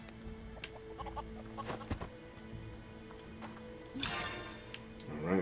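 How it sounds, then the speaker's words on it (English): Chickens cluck repeatedly in the Xuan Yuan Sword 7 video game, a fairly quiet farmyard bird sound with a few louder clucks near the end. "Chickens."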